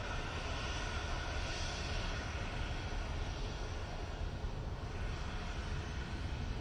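Airliner departing Manchester Airport bound for Palma de Mallorca: a steady, distant-sounding broadband engine rumble and roar, fairly quiet and constant throughout, with no voices.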